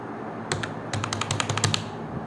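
Quick burst of keystrokes on a computer keyboard, a brisk run of close, clicky taps over a faint steady background hum, no speech.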